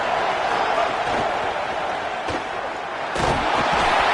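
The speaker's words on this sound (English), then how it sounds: "this crowd is turning it up a notch." A football stadium crowd during a Dynasty game roars steadily and loudly throughout, a dense continuous wash of cheering with a couple of brief thuds and swells near the end.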